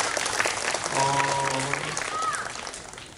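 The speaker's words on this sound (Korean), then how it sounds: "다시 한번 큰 박수 부탁드리겠습니다." An audience claps at a Catholic anniversary broadcast talk concert, a dense wash of applause lasting a few seconds, with a voice briefly heard through it.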